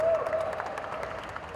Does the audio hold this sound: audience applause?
yes